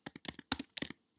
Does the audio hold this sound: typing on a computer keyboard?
yes